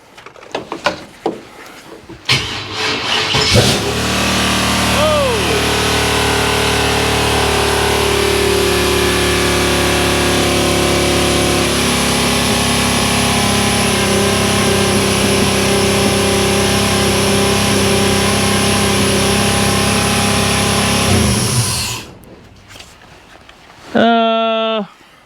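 A car engine catches on its first start after a rebuild and revs sharply up to high RPM, then holds a loud, steady, close roar for many seconds before cutting off. Brief voices can be heard around it.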